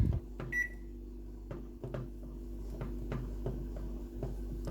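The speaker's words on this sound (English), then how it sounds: "But now I'm going to be careful and keep checking on the microwave." A microwave oven runs with a low steady hum while heating a mug pizza, with a short beep near the start and scattered light clicks and knocks over the drone.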